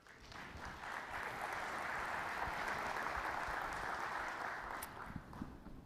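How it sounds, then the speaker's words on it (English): An audience at a cybersecurity conference talk gives a steady, dense round of applause to welcome the presenter, sustained for several seconds before tapering off. "Big round of applause for John."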